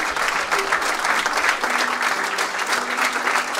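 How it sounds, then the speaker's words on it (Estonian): Sustained audience applause after a mixed alumni choir concert at a school centenary ceremony, dense even clapping from a large hall crowd continuing steadily throughout. "Ja aplaus kestis."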